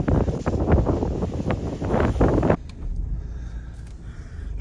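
Strong gusty wind buffets the microphone outdoors on a cattle farm, a loud broadband roar for about two and a half seconds before easing into a quieter, steadier rush of air.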